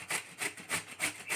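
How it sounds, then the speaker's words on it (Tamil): Bottle gourd scraped against a carrot grater, five steady rasping strokes in an even back-and-forth rhythm, close and clear with nothing else heard. "நம்ம நேரடியாகவே கேரட் சீவரத்தில் வச்சு சீவிக்கலாம்"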